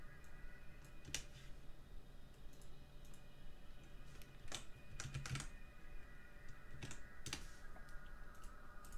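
Quiet, clicky keystrokes on a mechanical keyboard fitted with dampeners tap out in irregular bursts, with a few sharper clacks standing out over faint background hum.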